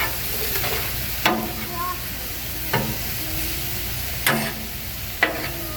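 Chopped food sizzles on a Blackstone griddle, a constant close fizzing hiss broken by four sharp scrapes and clacks of a spatula stirring and turning it.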